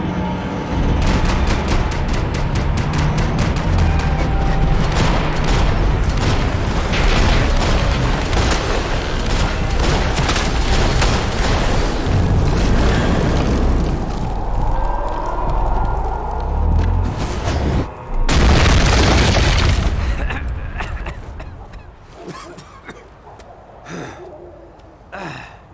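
Rapid gunfire fills a Max Payne 3 shootout, dense bursts of shots and booms running nearly continuously at loud level, with a brief louder blast near the end before the noise thins out.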